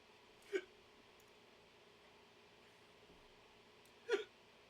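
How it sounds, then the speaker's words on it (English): A streamer hiccups twice while playing a game, two short sharp faint hiccups spaced about three and a half seconds apart over a quiet background hum. "Oh my goodness, I have the hiccups. I have bad hiccups."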